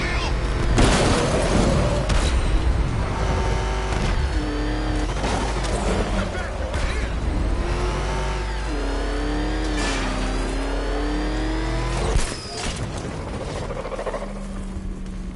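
A car racing through Batman Arkham Knight, its engine revving and surging loudly and continuously with pitch sweeps as it accelerates, under game dialogue.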